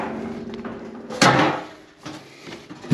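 A back door being opened in a room that holds a home solar power setup, a sudden scraping clunk midway through, followed by softer rattling knocks against a quiet background.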